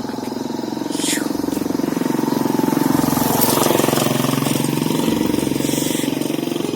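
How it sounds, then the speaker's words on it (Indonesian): A motorcycle engine rumbles close by on a road near Mount Merapi, a steady loud drone that swells to a peak in the middle and eases slightly without fading out, with no talk over it. "Ada motor."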